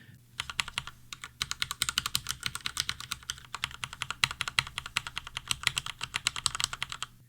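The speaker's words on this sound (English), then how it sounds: "The clickiness sound the Wei emits is more of a tick tick tick tick tick rather than a tick tick tick tick" Rapid typing on a full-size Mionix Wei mechanical keyboard, a dense run of crisp, muted clicky keystrokes close up, with a brief pause near the start and then steady continuous strokes.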